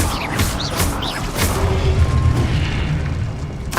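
A Confringo spell blast in Hogwarts Legacy, a dull, heavy boom with crackling, rumbling debris that sustains for a few seconds at moderate loudness.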